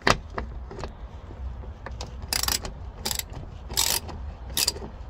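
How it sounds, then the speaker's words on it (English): A ratchet undoing the 10mm bolts on a car engine cover. A close series of bright clicking bursts comes in quick pawl runs, separated by short pauses and softer handling knocks. "So first we need to remove the cover with these 3 bolts"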